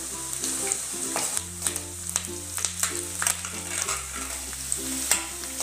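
Curry leaves frying with onion in hot oil in a pan for matar kanda pohe, a steady crackling sizzle with sharp pops and spatters, close and continuous under a low background hum, no voices.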